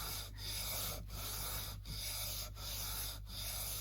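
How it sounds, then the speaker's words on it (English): Hand sanding on part of an Alvarez acoustic guitar during a setup, a steady close abrasive rasp in repeated strokes with four or five brief pauses between passes, over a low constant hum. "sanding it down and then checking, see where we've got to"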